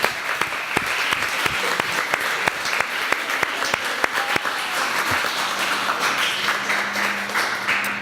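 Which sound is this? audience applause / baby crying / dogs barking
audience applause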